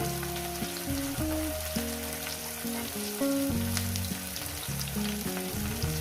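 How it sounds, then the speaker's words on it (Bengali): Chopped onions and bay leaf frying in ghee with whole garam masala in a pan, a steady close sizzle running throughout with a sustained tonal hum underneath, no voices. "পেঁয়াজ কুচোটাকে প্রায় আমি দু মিনিট ভেজে নেব"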